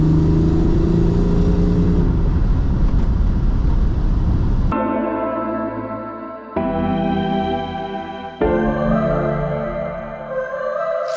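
A 2000 Ford Mustang with a V6 engine running, a steady mid-pitched engine hum heard close, shifting in tone a few times as it idles and revs slightly.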